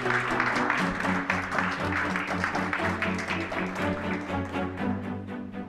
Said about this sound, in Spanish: La despedimos con este fortísimo aplauso.